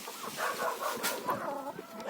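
Chickens in a Ukrainian village yard cluck and chatter in quick, overlapping bursts as they are fed kitchen scraps, heard up close with no talk.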